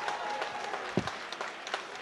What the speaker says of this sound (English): a big round of applause please for both these men after three excellent rounds of action